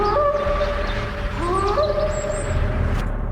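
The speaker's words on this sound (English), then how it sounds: "Then they heard an unfamiliar, high-pitched animal call." An unfamiliar high-pitched animal call near a creek: wavering, whining tones that rise and slide like a howl or whimper, repeated over several seconds above low background rumble.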